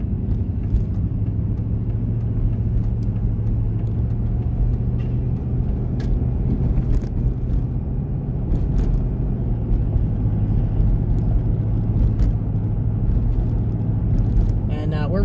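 A truck hauling a hot shot load of hay rolls along a North Carolina road, giving a continuous low engine rumble and road noise from inside the cab, with a person talking over it.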